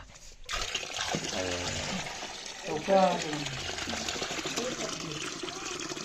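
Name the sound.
water flowing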